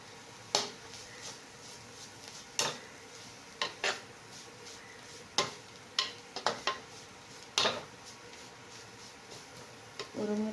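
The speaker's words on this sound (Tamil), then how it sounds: "அதுக்கப்புறம் நல்லா கிளவி கொடுத்துட்டே இருங்க" Carrot poriyal being stir-fried in a pan, with sharp, irregular clinks and scrapes of a spatula against the metal above a soft sizzle, over roughly ten seconds.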